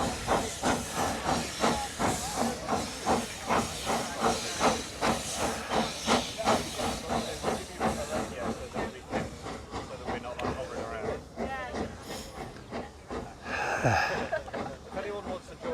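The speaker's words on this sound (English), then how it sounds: "Yeah, a mini steam train." A miniature steam train chuffs nearby with a rapid, rhythmic series of hissing steam bursts that slow and soften, ending in a louder sustained hiss, while people talk over it.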